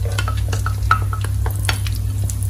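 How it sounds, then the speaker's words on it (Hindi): Dry fruits frying in desi ghee in a pan for sheer khurma, a soft steady sizzle under repeated scraping and clinking stirs of a spoon against metal, close up. "यहाँ पे अपने ड्राई फ्रूट्स को फ्राई कर लेते हैं।"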